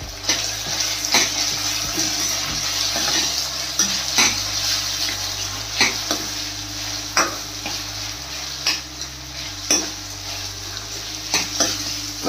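Kadhi with bhindi (okra) being stirred in a frying pan, a steady sizzling fry with repeated scraping and clinking of the spoon against the pan, close and alone with no talk.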